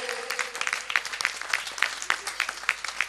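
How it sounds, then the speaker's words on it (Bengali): Loud, sustained applause from an audience greeting an actress at a stage event, dense overlapping claps with rhythmic peaks running throughout, with no talking over it. "অন্বেষার জন্য জোরে হাততালি"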